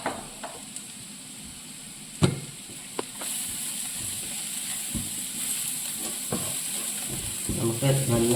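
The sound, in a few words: stirring turmeric and Kashmiri chilli powder in a frying pan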